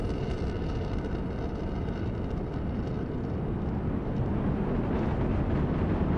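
Delta IV Medium rocket first-stage engines roar through launch ascent as a dense, steady, loud low rumble that fills the whole stretch without letting up, with no voices over it.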